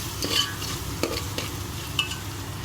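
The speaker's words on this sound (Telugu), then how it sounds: "ఇప్పుడు ఎగ్ కూడా వేసేసుకుందాము" Egg sizzling and frying in a pan with soy sauce and oil, with short bursts of stirring and scraping over a steady crackle, close and alone.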